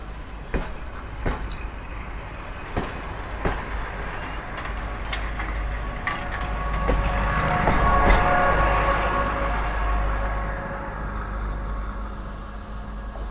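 A train approaches in rural Moldova, its rumble and rising hum swelling to a peak midway before easing off, with scattered clicks at the start.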